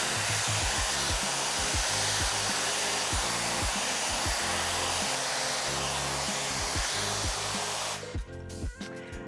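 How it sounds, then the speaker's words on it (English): A Diva Pro Styling hairdryer with a diffuser attachment blows steadily and loudly at close range, a continuous broadband roar used to heat-set styling product in hair, cutting off abruptly near the end. "I'm going to use the Diva Pro Styling hairdryer with the diffuser attachment, just to kind of like heat activate the product and just scrunch the hair up"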